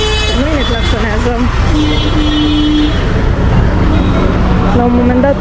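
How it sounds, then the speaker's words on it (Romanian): Car and truck horns honk repeatedly amid dense street traffic in Old Delhi, with short toots and longer blasts over a loud, constant rumble of engines and crowd bustle. "noi ne claxonează."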